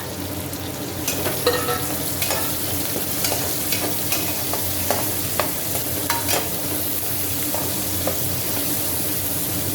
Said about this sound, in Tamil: பொரியுது பாருங்கள் எல்லாம் இந்த மாதிரி பொரியும் போது பூண்டு வெங்காயம் பச்சை மிளகாய்